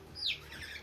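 A pet cockatiel gives a single quick, faint chirp that sweeps upward, a brief bird call close by in a quiet room.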